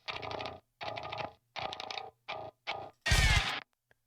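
Gritty, mid-heavy distorted bass guitar, a mid-distortion track, in short choppy bursts separated by silences, ending with a harsher, noisier hit that cuts off abruptly.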